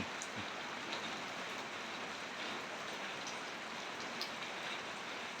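Rain falls at night in a rural setting, a faint, steady wash of hiss and patter with occasional drops landing close by.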